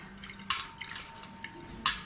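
Water drips and trickles as wet cocopeat is pressed and squeezed by hand after straining, a few short splashy bursts over a faint watery background.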